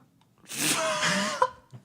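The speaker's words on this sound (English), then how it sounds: "with the end of this potion, you sneeze with the force of the gust of wind spell" A single sharp sneeze from a tabletop role-playing player, a breathy inhale building into a loud burst, followed by a brief catch of breath at close range.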